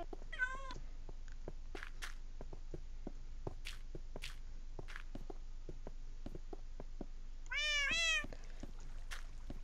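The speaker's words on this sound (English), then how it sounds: "Kitties needs to leave." A cat in a room meows a few times, one short wavering call near the start and a longer, louder meow near the end, over quiet background ticks and soft shuffling footsteps.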